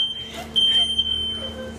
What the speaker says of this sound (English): All the alarms are going off.